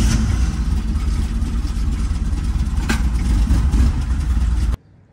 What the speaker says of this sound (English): I'm gonna run the engine just so I have some oil circulating the entire engine